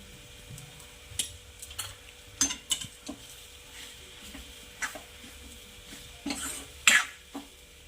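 Besan roasting in oil with chopped spring onions in a pan, a quiet low sizzle broken by scattered taps and scrapes of a spoon stirring, close by and fairly faint, without speech.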